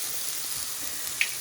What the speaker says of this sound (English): So I'm frying up some leftover veggies